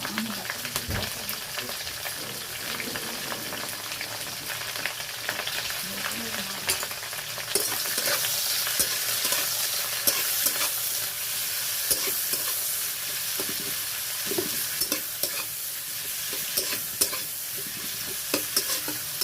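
Bay leaves, four or five green chillies and onion fry in a pan with a steady sizzle and occasional stirring scrapes, the hiss growing noticeably louder partway through and continuing without talk.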